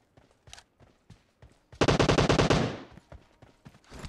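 In PUBG Mobile, an M762 rifle fires one rapid automatic burst of about a dozen sharp shots lasting under a second. Scattered footsteps and small game noises come before and after it.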